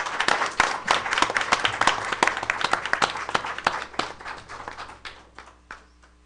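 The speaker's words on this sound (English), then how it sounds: "let's give her a round of applause" Audience applause at a school board of education meeting, a dense burst of many hands clapping that starts at full strength and thins out over about six seconds.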